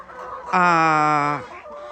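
A chicken in a poultry pen on a farm in Ghana lets out one loud, drawn-out alarm call lasting about a second, close up over a steady background hum.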